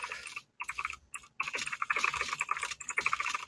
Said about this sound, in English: you're going to hear a lot of clicking